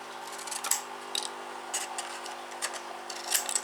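Scissors cut through paper or card while building a photo album structure, giving a few separated snips and crisp cutting strokes, close and quiet over a faint steady background hum.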